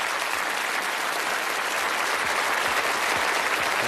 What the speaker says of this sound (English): a marvellous round of applause and encouragement